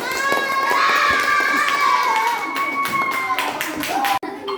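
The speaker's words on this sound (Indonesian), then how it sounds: "Beri tepuk tangan." Children in a classroom applaud, a dense burst of clapping over high-pitched voices and shouting, loud and close.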